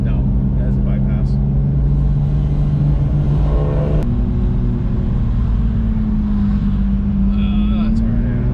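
A BMW E36 with a swapped, naturally aspirated S54 engine and a bypass exhaust holds a loud, close, steady engine note whose pitch steps up midway and then drifts gently.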